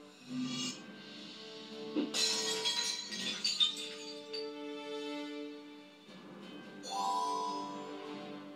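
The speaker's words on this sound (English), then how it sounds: "To get that axe, I'll need to find a way to break the glass" Glass breaking in the Titanic 100th anniversary adventure game, a sharp shattering crash followed by tinkling shards, set among background game music and tones.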